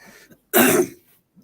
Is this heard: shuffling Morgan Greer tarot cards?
no